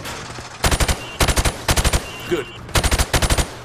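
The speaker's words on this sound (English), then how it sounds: "I want you to shoot the targets through the wood." Gunfire in Call of Duty: Modern Warfare Remastered as bullets are shot through plywood targets, loud rapid bursts of three to six shots repeated in quick succession, with a brief spoken word between bursts.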